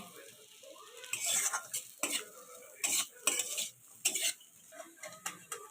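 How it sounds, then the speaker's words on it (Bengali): Grated coconut frying in mustard oil for a Bengali pointed gourd dorma filling, stirred hard with a metal spoon: bright, rhythmic scraping and clattering against the pan roughly every second over a soft sizzle, close up. "নারকল কুচি দিয়ে দিচ্ছি"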